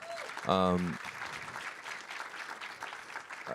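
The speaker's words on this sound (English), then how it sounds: "That's worth a round of applause, guys." Round of applause from an audience at an interview event, steady clapping throughout with a short loud cheer or whoop near the start.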